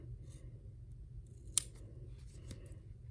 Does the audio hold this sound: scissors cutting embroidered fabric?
yes